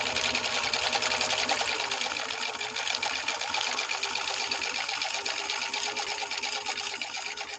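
A Husqvarna 21A sewing machine stitches steadily with cam B revised on stitch one, its fast, even needle clatter and motor hum running loud and unbroken throughout.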